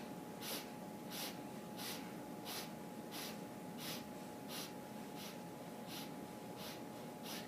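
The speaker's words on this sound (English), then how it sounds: "consciously try to push your belly out as you breathe in" Deep belly breathing in a guided exercise, a steady rhythm of about a dozen quick, airy breaths close to the microphone, faint over a low hum with no talking.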